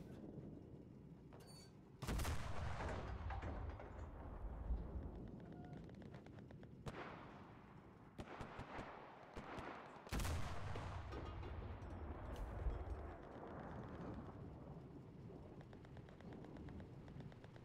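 Anti-tank gun firing HE shells in the Enlisted war video game, with loud booming shots around 2, 7, 8 and 10 seconds over a continuous battlefield rumble, no voices.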